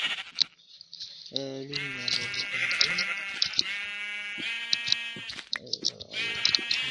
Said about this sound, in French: C'est genre, c'est le mouton de la victoire.